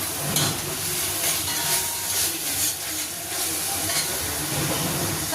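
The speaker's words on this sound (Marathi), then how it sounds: "अशी फोडणी झालेली मस्त अशी" A Marathi-style phodni of coriander leaves and asafoetida sizzles in a pan for dal (varan), a dense continuous hiss with faint stirring, close and steady throughout.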